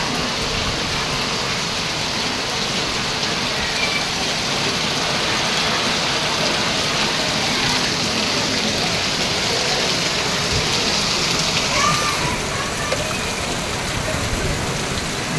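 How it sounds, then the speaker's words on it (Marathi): Heavy unseasonal rain in Mumbai pours steadily and loudly throughout, a dense continuous roar of drops on surfaces. "भरपूर भरपूर पाऊस पडला"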